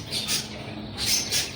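Java sparrows at a Mosul animal and bird market give a few faint, high chirping calls, two short clusters over a low crowd murmur.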